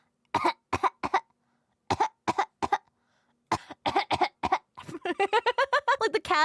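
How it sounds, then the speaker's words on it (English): A young woman gives a run of small, high-pitched coughs in quick bursts, close to the mic, ending in a rapid string of tight little hacks that sound almost like giggling. "Coughs like a 3-year-old."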